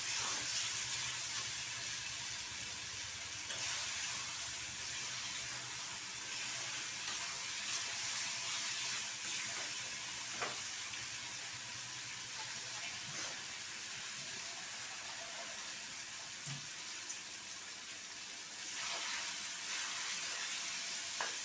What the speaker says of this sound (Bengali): আমি মশলার সঙ্গে আলুটা দিয়ে কষতে আছি। মশলা থেকে তেল ছেড়ে দিয়েছে